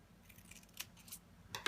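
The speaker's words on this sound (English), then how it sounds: "I'm gonna make sure my scissors really get that spot where they cut that shape out nice and clean" Scissors snipping paper shapes, a few quick close crisp cuts in an uneven rhythm against a quiet room, with no voices.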